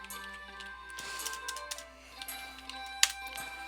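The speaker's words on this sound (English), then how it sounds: "I'm kind of having a bit of trouble just typing." Someone types on a computer keyboard, producing quick, irregular clicks that are fairly faint, with one sharper keystroke standing out near the end.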